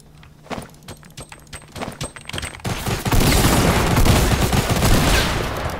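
Gunfire in Fortnite, with a few separate close shots and clanks up front, then a dense, loud fusillade of rapid fire that swells and sustains to the end.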